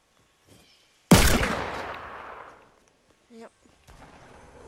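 A single loud gunshot in the video game Fortnite, a sharp crack followed by a long decaying echo, with brief speech afterward.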